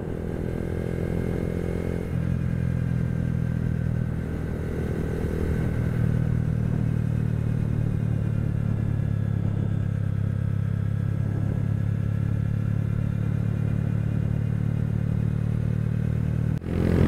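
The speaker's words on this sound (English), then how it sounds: "I'm really impressed with how this Grom climbs hills." A 2022 Honda Grom motorcycle climbs a hill in fourth gear, its small engine holding a steady, loud, labouring drone from the rider's position, with slight shifts in pitch as the load changes.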